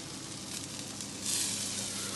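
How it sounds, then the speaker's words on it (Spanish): Eggplant and tomato sizzle on a hot griddle, a steady close hiss of frying with no talk that grows a little louder partway through. "estamos planchando las berenjenas y el tomate"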